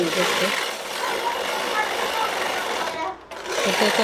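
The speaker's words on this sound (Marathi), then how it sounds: "परफेक्ट फिनिशिंगमध्ये आपल्याला इथे शिलाई मारून घ्यायची आहे" A sewing machine stitches the neck finishing of a blouse, a loud, fast, steady mechanical whirr close by that drops out briefly near the end and then resumes.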